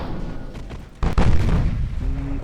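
A naval shell striking a ship in Ultimate Admiral Dreadnoughts, heard as a heavy booming impact about a second in, followed by a sustained rumble.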